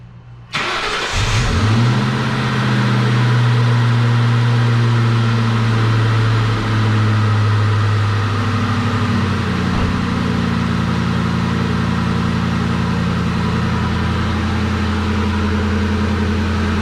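A 2003-04 Ford Mustang Mach 1 V8 fitted with new MSD coil-on-plug ignition coils cranks briefly and fires, then settles into a steady, loud, close idle that runs uninterrupted with no talking.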